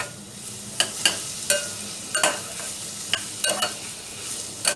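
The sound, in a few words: onion sautéing in a pan for tuna spaghetti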